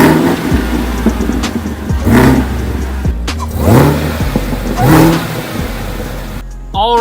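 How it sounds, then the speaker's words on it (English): A wrecked 2018 Chevrolet Camaro ZL1 being rebuilt has its engine revved in several loud, close bursts, each rising and falling back to a rumbling idle, with a short pause between. "Rev her up."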